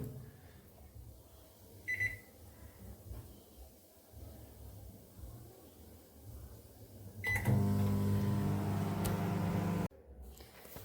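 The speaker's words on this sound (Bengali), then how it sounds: "দেখি মাইক্রোওভেনে বসাই সিদ্ধ হবে কিনা তাও জানি না" A microwave oven cooking potatoes: a low steady hum that swells louder near the end, with a short beep early on and a sharp stop as it finishes.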